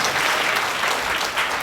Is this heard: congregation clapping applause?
yes